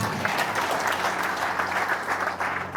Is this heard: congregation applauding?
yes